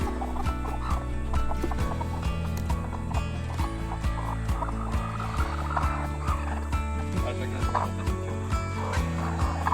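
Chickens cluck and call continuously close by, their overlapping throaty voices forming a busy, repetitive barnyard chorus.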